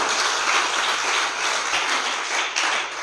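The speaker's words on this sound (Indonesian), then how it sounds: "kita tepuk tangan" Sustained applause from a church worship congregation, a dense steady wash of many hands clapping for the worship team, fairly loud and even throughout with no voices.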